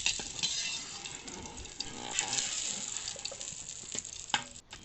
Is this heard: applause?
no